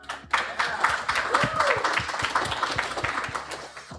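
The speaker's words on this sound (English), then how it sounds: "Let's give a short round of applause for our panelists here." Audience at an AI summit panel applauding in a brief round of clapping, a dense patter of many hands close by that swells quickly and tapers off.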